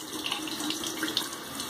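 Tap water runs steadily into a sink during a wet shave rinse, a continuous close splashing hiss with no talking.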